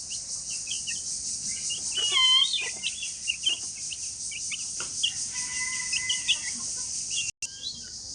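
Nine young chicks chirping nearby in a flock, with thin scattered peeps and tweets repeating over a steady hissing background, no talk.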